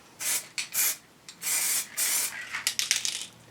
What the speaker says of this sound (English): Invert the can and clear the nozzle.